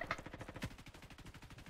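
Rapid automatic gunfire in the Roblox video game, a fast even string of shots at moderate level with a few heavier bursts mixed in, no talk over it.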